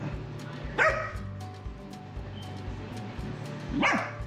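A dog barks twice, a couple of seconds apart, sharp and fairly close, with quiet room noise between.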